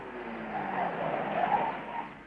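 A car brakes and skids to a stop on a road in a Russian radio drama, a sustained tire squeal swelling and fading over about two seconds, fairly close and alone.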